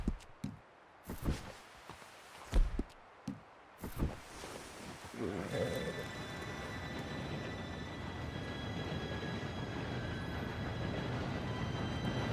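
An approaching train in the Red Dead Redemption 2 video game builds into a steady, loud rumble with high whine tones after a few scattered footsteps and thuds, growing nearer and holding to the end.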